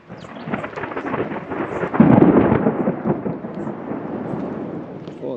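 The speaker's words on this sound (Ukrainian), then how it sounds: "Ну ніяк не розраховував, що буде дощ." A rainstorm on Mount Vesuvius: a deep thunder rumble swells and rolls near the middle while steady rain patters on surfaces throughout, with no speech.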